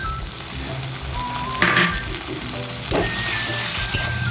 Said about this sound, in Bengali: পেঁয়াজটা একটু কষিয়ে নেব।